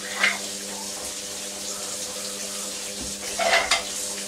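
Dishes rinsed under running water at a kitchen sink, a steady close stream with a couple of light clinks of crockery.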